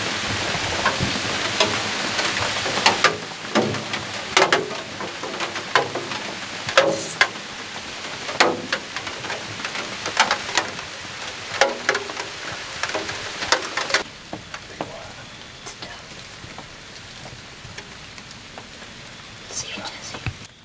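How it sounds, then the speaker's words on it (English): Rain falls steadily outdoors in Demopolis, Alabama, a soft constant patter with sharper drops and taps in the first half, then a quieter, smoother hiss, with low voices now and then. "it's raining"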